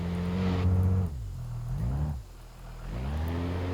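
Simulated 3.0-litre ETK i-Series engine with automatic gearbox revs up in BeamNG.drive, its tone climbing then dropping at two shifts as the car pulls away, steady and moderately loud.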